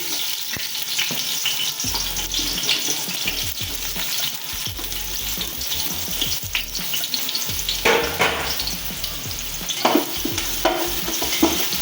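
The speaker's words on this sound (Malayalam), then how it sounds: "ഉള്ളി നല്ലോണം പൊരിയണമല്ല" Onions sizzle continuously in a hot pan for Kasaragod-style biryani while a utensil scrapes and stirs at an irregular rhythm, close and clear with no voices.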